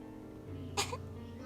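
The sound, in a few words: cough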